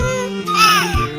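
Voiced crying of a cartoon bird in a Hindi animated story, a short wailing, whimpering sob that rises and falls over about a second, close and clear, performed by a voice imitating the bird's crying.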